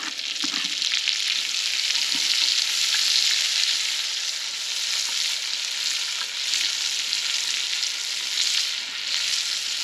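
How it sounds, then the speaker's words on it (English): Two small yellow onions sizzle in a pastalaya pot over an open fire, a loud, continuous frying hiss that holds steady from start to finish with no talk. "And now we'll go in with our 2 small yellow onions."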